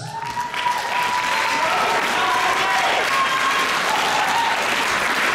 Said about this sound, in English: Please give each other a round of applause.